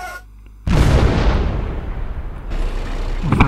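Tank cannon blasts from the mobile game Kick The Buddy: a loud sudden boom after a quiet moment, followed by a sustained rumbling barrage that stays dense and loud, with another burst near the end.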